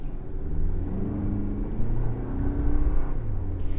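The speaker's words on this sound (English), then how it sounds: "this one still definitely has a little bit of that 4-cylinder engine note that's a little bit gruffer and rougher and a little bit more raspy" Four-cylinder engine of a 2024 Lexus RX350 droning steadily from inside the cabin, a low gruff rumble that swells slightly as the car accelerates, with no talking over it.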